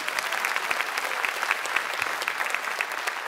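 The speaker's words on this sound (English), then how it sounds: "And I'm glad you're clapping" A church congregation claps together in a large hall, a lively, even burst of applause with crisp individual claps sustained throughout, no speech over it.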